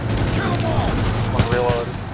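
Enemy gunfire in The Division crackles in a rapid automatic burst of shots, loud and close, with a voice briefly under the shooting.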